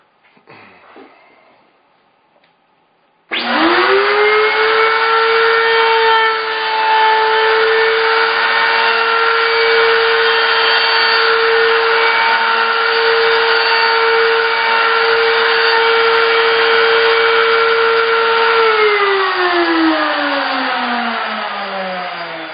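A power tool drills holes in a wax slug grid, a loud, steady motor whine that starts abruptly after a few quiet seconds, holds for about fifteen seconds and then winds down near the end.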